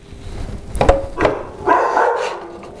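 Dogs barking at a distance during a new tool setup: a couple of sharp barks, then a longer, rougher burst of barking, loud and alone with no talk.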